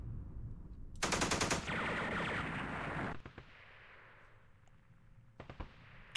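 Machine gun fire in a Vietnam war video game, a loud close rattling burst of about two seconds with clanking mechanical noise, then fading into quiet ambience with a few sharp later impacts.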